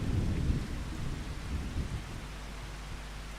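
Steady rain pours with a low rumble of thunder in the Farming Simulator 25 video game, a continuous, fairly loud wash that is heaviest in the opening moments and then holds even, with no talking.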